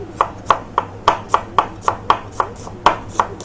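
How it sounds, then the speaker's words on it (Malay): A knife chops onion on a cutting board while cassava leaves are being fried, each cut a crisp, sharp knock in a steady rhythm, about ten close, loud strokes with no talk. "Aku tak potong bawang lagi."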